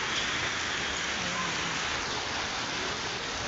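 Hail and icy rain fall on a roof in Iraq, a dense, continuous hissing patter that holds steady and loud throughout.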